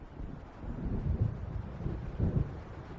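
Distant thunder from an approaching storm in Alan Wake rolls in two low, swelling rumbles under steady wind over open water near an island, with no voices.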